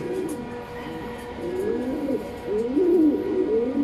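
Racing pigeons coo in a dim breeding loft, several soft, rolling calls overlapping at close range and repeating steadily, with no talk over them.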